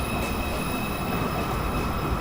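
A Manhattan-bound 2 subway train at 207th Street gives a continuous loud rolling roar, with thin, steady high-pitched wheel squeals ringing over the rumble throughout.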